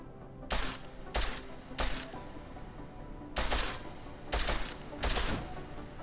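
Six sharp 10mm pistol shots fired at targets in Deus Ex Mankind Divided, spaced irregularly with short gaps, each a loud crack ringing out over a quiet room tone.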